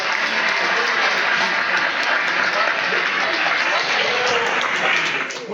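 Loud, dense applause from an audience at a network marketing presentation in Kenya, sustained and even throughout before tapering slightly at the end.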